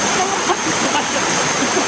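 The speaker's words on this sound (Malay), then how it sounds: "Redup dengan air sungai gunung, sungai batu." A rocky mountain river rushes over stones in a steady, full, close wash of flowing water with no pauses.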